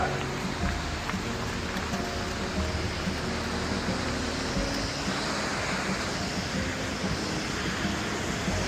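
Cascade du Ré, a mountain waterfall, gives a steady broadband roar of rushing water, continuous and fairly close, with no talking over it.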